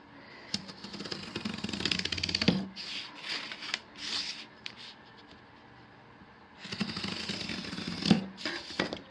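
Scissors making a half-cut score line in cardboard while building a painted movie set, giving two bursts of close, scratchy rasping cuts separated by a quieter stretch with small handling sounds.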